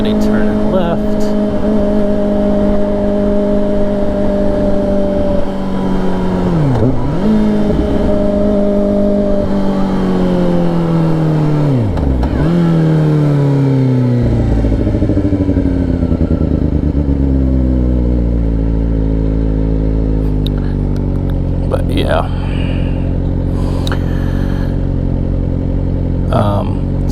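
Riding a 2024 Kawasaki Ninja ZX4RR through morning traffic on a main road, the bike's engine drones loud and close, pitch rising and dropping with gear changes, while passing cars and wind rush around it.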